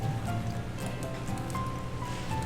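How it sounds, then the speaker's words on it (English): Steady, soft rain in the video game Forever Someday, a continuous even patter with a faint tonal hum beneath it and no voices. "So very, very sad because it's raining."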